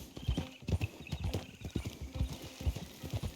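Red Dead Redemption 2 horse clip-clops along at an even walking pace, with hooves striking in a steady rhythm, close and fairly quiet.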